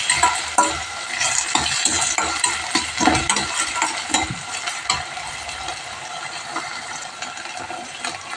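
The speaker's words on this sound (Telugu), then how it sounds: "కొంచెం సోయా సాస్, ఈ సాస్లని బాగా మిక్స్ చేసుకుందాం." Soy sauce and other sauces are mixed in a frying pan for chicken majestic, with busy, continuous scraping and clinking of a spatula against the pan over a soft sizzle, close by and without speech.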